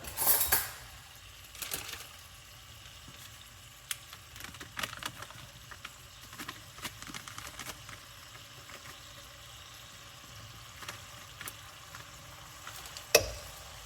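Radish sambar with coriander powder is stirred in a pan, giving soft scraping and occasional clinks of a metal spoon over a faint low sizzle, fairly quiet and close, with a sharper knock near the end.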